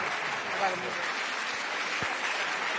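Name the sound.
audience applause at Bled Strategic Forum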